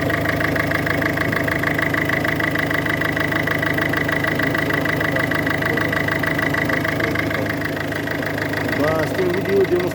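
The 1.6 HDi 110 hp diesel engine of a Peugeot 5008 idles steadily and loudly nearby, a constant rumbling clatter with no change in pace.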